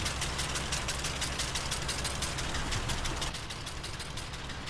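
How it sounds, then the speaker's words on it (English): A 1250 tractor engine in a farming video game runs steadily with a rough, knocking idle, loud and continuous, easing slightly toward the end. "This 1250 tractor is absolutely lovely."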